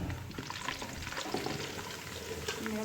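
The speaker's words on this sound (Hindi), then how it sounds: "ये मैं इसमें डाल रही हूँ आधी प्यारी लहसुन और इसको थोड़ा सा फ्राई होने देना।" Garlic frying in hot oil in a pan, a soft, steady crackle and sizzle with scattered small pops, fairly quiet and continuous throughout.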